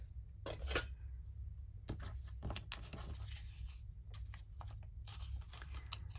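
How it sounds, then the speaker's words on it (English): Scissors cut out a paper bookmark in several short bursts of crisp snipping and rustling paper, close and fairly quiet against a low steady background hum, with no talking. "Let's just cut this one out."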